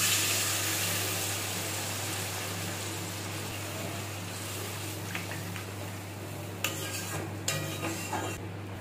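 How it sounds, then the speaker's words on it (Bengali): Water goes into a pan of kundri curry cooked with sour yogurt over a low flame, with a steady sizzle and bubbling under scattered clinks of a spoon stirring against the pan. A low hum runs throughout. "এখন জল দিয়ে দেব।"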